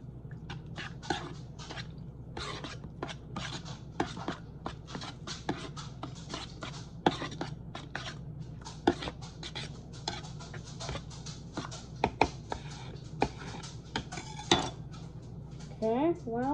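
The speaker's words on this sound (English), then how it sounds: "So, let's stir. Let me go grab a stirring tool. You know what? I'll just use the knife from earlier." A knife stirs mashed potatoes in a dish, giving steady scraping and clinking of metal against the bowl, close and continuous with frequent sharp taps throughout.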